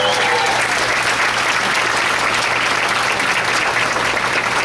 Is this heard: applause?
yes